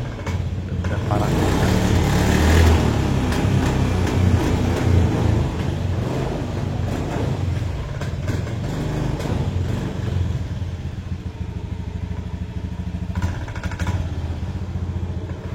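Honda Beat FI scooter engine sputtering and stumbling when revved, apparently starved of fuel, an uneven, clattering close-up engine note that surges and drops over its whole length.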